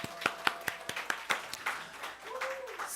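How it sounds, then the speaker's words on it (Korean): Congregation at a Korean Sunday church service clapping to welcome newly appointed church staff: a short run of sharp, evenly spaced claps close by, fading out as a voice comes in. "우리 새롭게 재직 추가되신 분들 박수 한번 하겠습니다"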